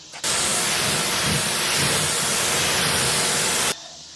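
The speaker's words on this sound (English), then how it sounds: "So same goes with the wheels. I'm just going to spritz it." Steady hissing spray of ceramic coating misted from a bottle onto car wheels during exterior detailing, one continuous close burst of about three and a half seconds with no talking.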